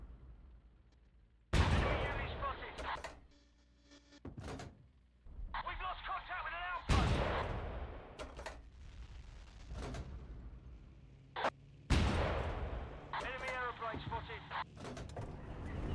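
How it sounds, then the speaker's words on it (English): A World War II artillery piece fires in Battlefield 1942: three loud, heavy booms spaced several seconds apart, each with a rumbling decay, while someone talks in between. "Hopefully I can get him with this artillery piece"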